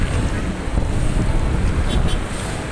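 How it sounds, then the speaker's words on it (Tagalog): Strong outdoor wind buffets and roars across the microphone without a break, a steady broadband rush in open air beside a roadside where a motorbike sits with a flat tire. "Mahangin."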